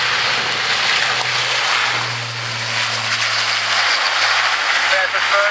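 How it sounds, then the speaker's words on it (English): Airbus A400M military transport at a flying display making a full power takeoff, its turboprop engines giving a steady loud roar with a low droning hum throughout, and a commentator speaking over it. "There he goes, takeoff clearance given, full power takeoff."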